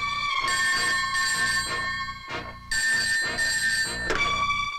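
A telephone bell rings in two long, loud trilling bursts separated by a short gap, close by with no voices.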